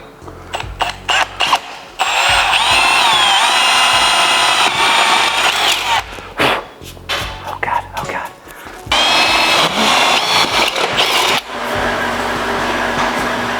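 Power drill driving a step drill bit through a motorcycle's painted metal, loud whining bursts that start, stop and restart over several seconds, rising in pitch as the bit spins up, with short pauses between runs.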